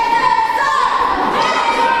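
A wrestling crowd at the Battlezone cheering and shouting steadily, a dense roar of many voices without pause.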